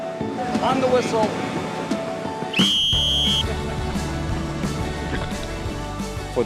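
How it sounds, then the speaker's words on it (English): A sharp, piercing whistle blast starts a 5K Steeler Run, cutting in after outdoor crowd chatter and wind, then held for about a second before the murmur of the crowd and talking resume. "On the whistle."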